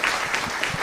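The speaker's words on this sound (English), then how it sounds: "Can we have a big round of applause for them?" An audience at a panel discussion on Indian epic fiction breaks into a brief, dense burst of applause, steady clapping filling the short moment.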